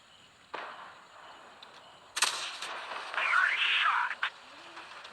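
Tank cannon fire in the War of Tanks Blitz video game: a soft thump early on, then a sharp loud cannon blast followed by rumbling game effects and faint tones, with a voice speaking quietly beneath.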